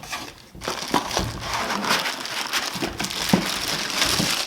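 Packaging for a Suaoki 10-port portable power bank being handled, with steady close crinkling and crushing of cardboard and plastic running throughout, punctuated by a few sharper crackles.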